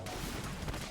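A brief, dense burst of gunfire in the video game Metal Gear Solid 2 Substance, rapid overlapping shots filling the whole short moment.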